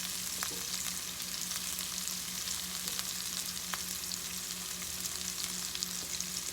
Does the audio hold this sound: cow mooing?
no